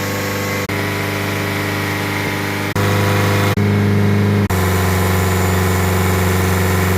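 A 2012 Citroën C4 engine idles steadily with a low hum, then the revs step up to a higher, sustained pitch before settling, heard up close with no talking.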